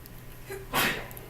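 A single short, sharp sneeze bursts out after a faint intake of breath, close and fairly loud, then fades into quiet room tone.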